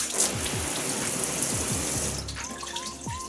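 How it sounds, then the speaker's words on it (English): Heavy water pours and splashes off a glass surface treated with an Alien Magic glass sealant, a steady close rush that thins to trickles and drips near the end. "A big deluge of water there."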